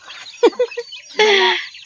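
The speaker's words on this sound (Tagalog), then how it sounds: "manok dere oh" A chicken gives a few short, quick clucks close by, then a longer, drawn-out squawk.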